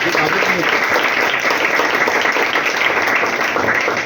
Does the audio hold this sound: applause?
yes